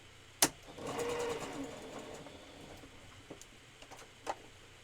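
A sewing machine whirs in a short burst of stitching while making belts for fursuit tails, faint and mechanical, with a few clicks and knocks around it in a quiet room.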